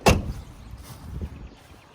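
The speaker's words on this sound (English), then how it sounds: "If you heard how nice those doors close" A 1997 Ford OBS plow truck's door, 7.5L 460, shuts with one solid, close thud at the start, followed by faint low rumble and quiet background noise.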